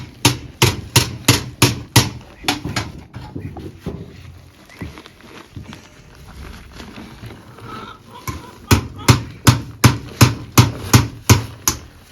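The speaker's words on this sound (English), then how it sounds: "We want to mix it with the cement now." Sand and cement being mixed by hand with a shovel at a construction site for a perimeter wall: loud, regular chopping and scraping strikes in steady runs, pausing in the middle before resuming, close by.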